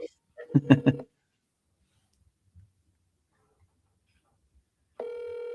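Ringback tone of an outgoing phone call to a seller's line: a steady electronic ring begins near the end and continues, after a second of talk and a long quiet pause.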